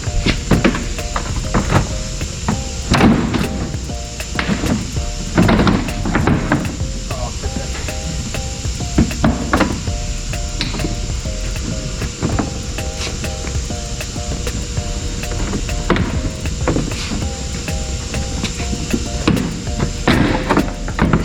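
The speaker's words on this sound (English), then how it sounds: "the trick to get the middle part out is to pull from underneath really hard" The middle section of a 2018 Subaru Crosstrek front bumper is yanked loose by hand from underneath, producing repeated sharp plastic thumps, cracks and rattles at an uneven rhythm, loud and close, with shuffling between pulls.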